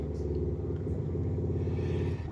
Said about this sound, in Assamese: মানে বাইকৰ চাউণ্ড আহি আছে, বেয়া নাপাব,